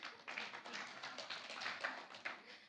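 Faint audience clapping during a motivational talk, a soft continuous patter of many hands heard from a distance, steady with small swells and no clear voices.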